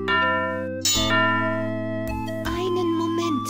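A bell rings in the Simon the Sorcerer adventure game as a tonal ding, sustained over a steady synthesized music bed, with a further bright strike partway through and a voice speaking faintly.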